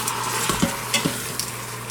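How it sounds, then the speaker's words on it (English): Chili stirred in an Instant Pot, a few soft scraping knocks of a spoon against the inner pot over a steady background hum, with no talking. "we'll just be stirring this up in here"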